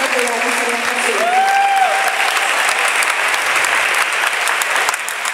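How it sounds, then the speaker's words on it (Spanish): A crowd applauds at a clinic presentation in Barinas, Venezuela, a loud continuous wash of clapping throughout, with a faint whistle-like tone rising briefly early on. "Quiero pedir, por favor, un aplauso"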